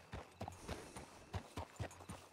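Hooves of a Turkoman horse in RedM clop at a walking pace, about ten soft, evenly spaced thuds on the ground, fairly quiet and heard alone.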